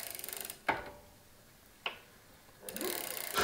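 An e-bike motor set off by its pedal sensor makes a fast mechanical whir in short bursts, with sharp clicks between them and quiet gaps, heard close up.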